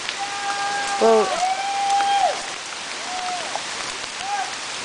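Hail pelting a plastic kayak as a dense, steady patter of hits on the hull, with a voice speaking briefly over the noise.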